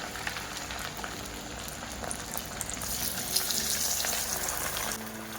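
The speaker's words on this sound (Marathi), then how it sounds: "त्याच तेलामध्ये मी आता इथे फिश फ्राय करणार आहे" Marinated fish fries in oil with a continuous, bubbling sizzle heard up close, steady throughout with no voices.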